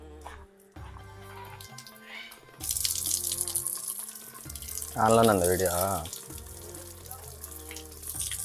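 Water running from a tank tap at a temple for washing feet, a steady outdoor splashing stream that continues under talking voices with some background music.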